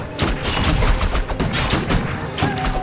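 Rifle gunfire in the strategy game Warcraft III, a loud flurry of repeated thudding shots and impacts layered with other battle noise throughout.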